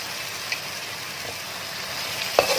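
Fried cauliflower sizzles steadily in a pan of masala as it is stirred, making a constant close hiss with a few faint spoon clinks and one louder scrape near the end.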